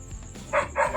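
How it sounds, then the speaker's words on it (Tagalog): A dog barks a few times nearby during a night spearfishing trip in the Philippines, sharp repeated yaps over a steady background hum. "ako ang tinatahol ng aso"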